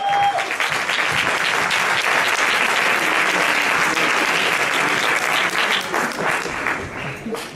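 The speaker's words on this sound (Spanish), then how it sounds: "¡Fuertes aplausos!" A studio audience breaks into loud, sustained applause for singers Manu Tenorio and David Bisbal, a thick, even wash of clapping that carries for several seconds before easing off at the end.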